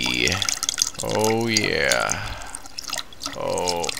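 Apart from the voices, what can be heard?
urinating, liquid stream splashing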